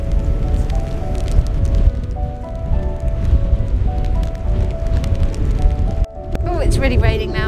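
Rain and gusting wind on a stormy beach, a dense continuous hiss and patter with blustery rumble, close and steady, broken by a brief dip near the end.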